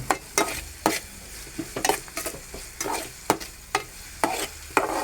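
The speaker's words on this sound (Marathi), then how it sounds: "कांदा चांगला परतून घेऊ जरा तांबूस होईपर्यंत" Onion sautéing in a pan until golden brown, a steady sizzle punctuated by about a dozen sharp, rhythmic spatula scrapes and stirs, close and fairly loud, with no voices.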